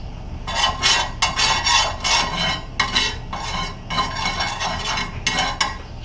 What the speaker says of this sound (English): We use the stirring spatula, scrape it off on there.